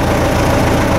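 Tractor engine idling just after starting, a loud, close, steady low rumble with even vibrating throb and no talking.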